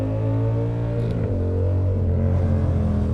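A Yamaha R7 motorcycle engine barks through a downshift, a loud, close low rumble with a rising rev blip partway through, then settling into a steady drone; no talking.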